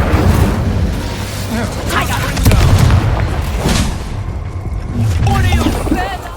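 Incendio fire spell cast in Hogwarts Legacy, heavy booming whooshes of flame amid a busy battle with other spell effects, loud and close, while a voice calls out in the fight.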